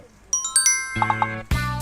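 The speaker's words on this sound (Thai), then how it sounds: "กด แจ้งเตือนกระดิ่งกุ้งกิงกิ้งด้วยนะฮะ" A notification bell sound effect plays bright chiming dings in quick succession, then a lower triple ding and a final fuller chime, crisp and close.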